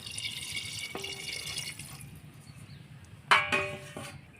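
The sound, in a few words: pouring a little water into a bowl for mutton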